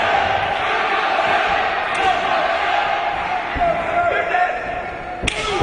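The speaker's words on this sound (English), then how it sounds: "Listen to this crowd." A large wrestling arena crowd roars in a steady, dense wash of noise, with a sharp slam or thud near the end.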